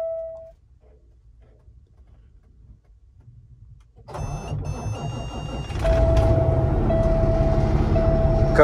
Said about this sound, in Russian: Уже забыл, как заводится трак.